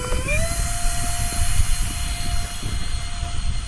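An E-flite SR-71 Blackbird RC jet with twin 40mm ducted fans spools up for takeoff, its whine rising quickly to a loud, steady high-pitched roar over outdoor wind noise.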